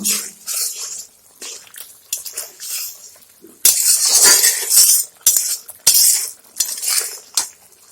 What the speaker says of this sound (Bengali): আমি এখন শুটকি মাছগুলো ঢেলে দিব ভালো করে মিলিয়ে নেব